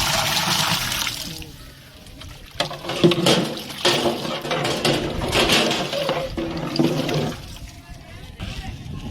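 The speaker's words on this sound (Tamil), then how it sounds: "தண்ணி ஊத்துறாங்க மக்களே." Water splashing and pouring steadily into a biryani cooking pot, loud and close, with a voice talking over it.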